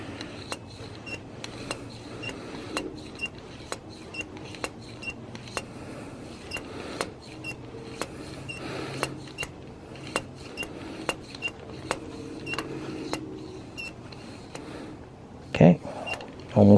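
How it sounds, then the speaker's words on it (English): A shock pump inflates the air spring of a Manitou Dorado fork on a Sur Ron Light Bee with repeated rhythmic strokes, each giving a short hiss and click, followed by a louder clunk near the end. "So I'm gonna pump this up until I get to 90."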